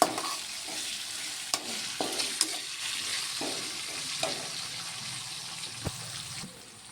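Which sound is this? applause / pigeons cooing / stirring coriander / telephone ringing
stirring coriander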